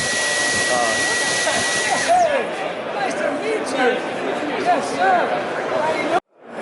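Dyson V10 cordless vacuum cleaner running at a trade show, a steady loud whirring motor drone that holds for several seconds, then cuts off abruptly near the end, with voices and crowd babble underneath.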